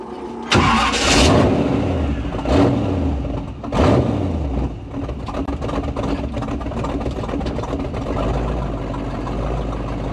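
Mad Max style rat-rod engine cranking several times, then catching and running in a loud, rough idle up close.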